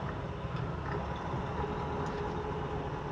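A truck engine drones loud and steady for about three seconds as it revs, with the rumble staying even throughout while the floating gears shift up into fifth.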